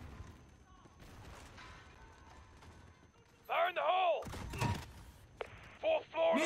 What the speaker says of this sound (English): Garrick, put a hellfire on that building.